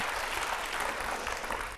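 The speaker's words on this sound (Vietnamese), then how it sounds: "Một tràng pháo tay cho nhà trai nha." A studio audience on a TV dating show applauds in a continuous wash of clapping that stays even and steady, with no voices standing out.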